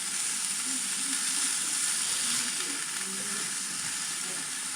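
An expensive steak sizzles in a very hot pan on the highest heat, giving off steam, with a loud, steady hiss and crackle that holds throughout.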